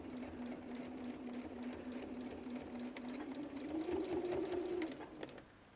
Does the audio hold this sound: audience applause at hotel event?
no